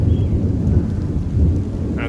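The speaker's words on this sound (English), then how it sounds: "That's some serious thunder." Thunder rumbles heavily and continuously during a long rainstorm outdoors, a deep rolling roar over steady rain with no talking.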